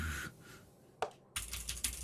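A few sparse clicks and taps from someone typing on a computer keyboard, quiet and close, with short pauses between key presses.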